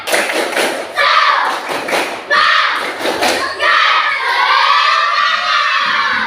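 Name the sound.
class doing rhythmic 'tepuk semangat' clapping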